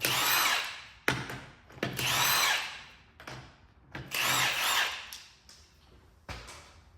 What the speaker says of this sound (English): Undo your 17mm bolts and take the wheel off.